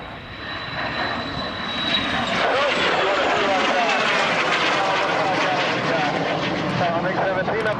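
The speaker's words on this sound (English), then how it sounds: "MiG-17 upside down, that's where you do it." A MiG-17 jet flying an airshow demonstration in Toronto roars loudly and steadily, its engine noise building and holding as it passes near, with an announcer talking over it.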